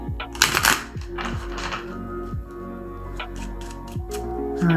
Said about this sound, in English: I feel like I need to shuffle again.